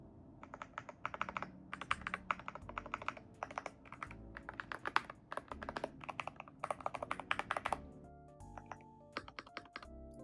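Close, rapid typing on a budget magnetic Hall-effect keyboard, with quick clusters of crisp, muted keystrokes in an uneven rhythm and brief pauses between bursts.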